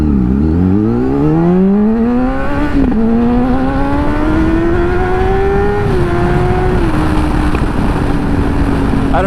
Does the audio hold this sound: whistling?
no